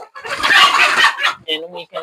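A rooster on an indigenous local poultry farm clucks and crows loudly and close by, then gives a few short clucks.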